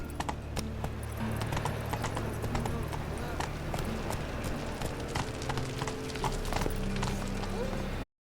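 Hooves of Geralt's horse Roach in The Witcher 3, a steady rhythmic clip-clop trotting over ground throughout, mid-distance and fairly loud, with a faint voice and ambient game sound underneath.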